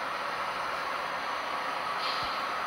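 An HO scale model BNSF train runs steadily on its layout, giving a continuous, fairly quiet rolling hiss and rumble with no voices.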